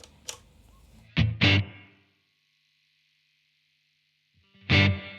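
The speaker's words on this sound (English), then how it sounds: "Okay, let's add some reverb to it." An electric guitar played through a Blackstar Amped 2 with reverb added: two distorted strums in quick succession ring out with a shimmering tail, then silence before a final strum blooms and lingers.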